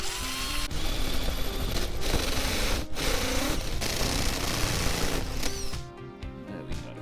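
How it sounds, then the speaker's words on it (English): A step drill bores a hole through the sheet-metal body of a camper van during an electrical installation, giving a steady, close, grinding whine that runs continuously with brief breaks before winding down near the end. "it never gets easier drilling into your van, I tell you."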